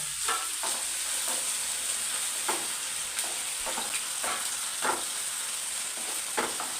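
Onions and green chillies fry in a pan for a Kerala brinjal stir-fry, giving a steady close sizzle broken by repeated scraping stirs.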